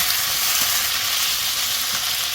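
Squid stir-fry with radish and peppers is stirred in a pan, giving a steady, close sizzling hiss of frying with soft scraping underneath and no pauses.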